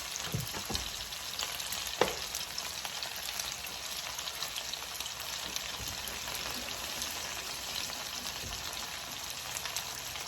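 Food sizzles and crackles in oil in a pan during quick lunch cooking, a steady close hiss with occasional clicks of stirring over about ten seconds.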